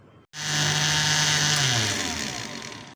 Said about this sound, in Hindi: अच्छी तरह से ग्राइंडर कर लिया।